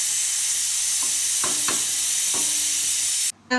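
Onion, garlic, ginger and tomato masala being stirred in a pan for Vadakara beef biryani, a steady loud sizzle with a few soft scraping strokes of the spoon, close and alone.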